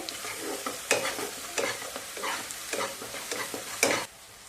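Drumstick and potato curry sautéed in oil in a pan: repeated spatula stirs and scrapes every second or so over a steady close sizzle, without speech.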